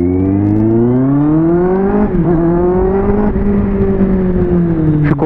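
Kawasaki Z800 motorcycle with a Jeskap carbon exhaust revving up under way, its engine pitch climbing steadily and holding high, loud and close with no talking.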